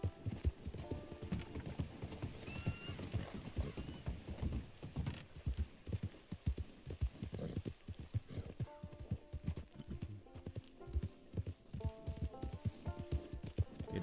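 Horse hooves clip-clop in a steady galloping rhythm in the video game Red Dead Redemption 2, moderately quiet and continuous, with an occasional whinny.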